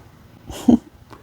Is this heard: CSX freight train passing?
no